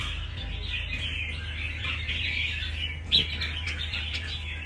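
A caged red-whiskered bulbul gives sharp, bright chirps and trills, fairly close, over a steady low background hum. No one speaks.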